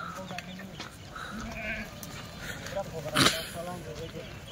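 Kathiawadi goats in a large wholesale lot bleat now and then, one louder call standing out near the end over a steady murmur of the herd and background noise, with people talking nearby.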